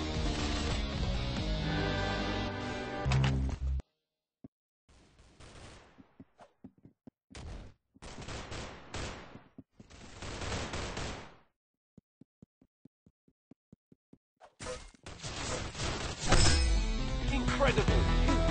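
Gunfire in a competitive shooter game, with dense bursts of rapid automatic fire, scattered sharp single shots and quick staccato volleys separated by short silences, loud and close.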